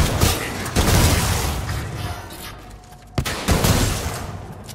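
Grenade blasts and gunfire in the video game Titanfall 2 sound as a dense, loud barrage of booming bursts, cut by a brief dip before the explosive clatter resumes.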